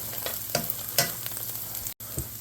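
Onions caramelize to a brown edge in a frying pan for homemade potato and onion pierogi, giving a dense, close sizzle with periodic stirring scrapes and a brief dropout near the end.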